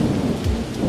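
Rain and thunder effect for an animated story, a loud rumbling thunder roll layered over steady heavy rain, brief and continuous with no voices.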